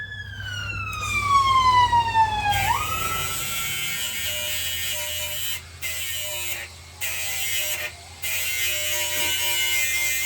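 A siren wails with a sweeping pitch that dips and climbs, loud and continuous, with a few brief dropouts.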